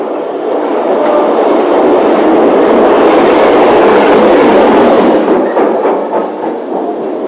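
A steam train rumbles past loud and close on a British railway line around 1960, a steady roar that swells and then eases off with faint rhythmic clatter.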